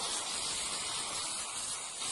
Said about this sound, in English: I'm spraying just inside of the carving, not necessarily on the outside